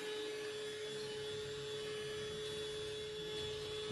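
A small fan whirs quietly and continuously to dry makeup on skin, a steady low hum with a faint tonal whine and no speech over it.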